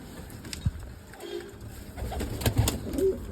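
Pigeons cooing softly in a rooftop loft on a sunny day, a few low coos and wing flutters with light background hiss and no talking.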